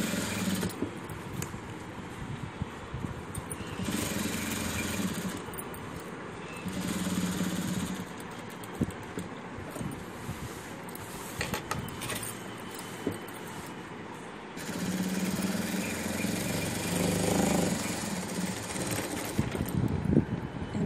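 A sewing machine runs in bursts while stitching the folded edges of a box pleat school uniform skirt, its motor whirring up and stopping several times at close range with no talk.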